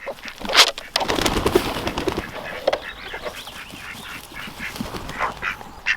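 Farm ducks quack repeatedly in a lively, overlapping chorus while waiting to be fed, close and fairly loud, with a few other birds mixed in and no talking.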